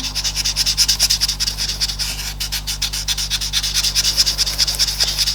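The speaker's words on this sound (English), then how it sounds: "I'm going in with the blending stump again" Blending stump rubbing pastel pencil on paper in quick, even back-and-forth strokes, a close, steady scratchy swish over a low constant hum.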